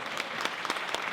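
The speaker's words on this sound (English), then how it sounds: "Yes, it's okay to applaud for me" A town candidate forum audience in Juno Beach, Florida, claps for the moderator, a brief burst of crowd applause in a hall at moderate loudness with no talking.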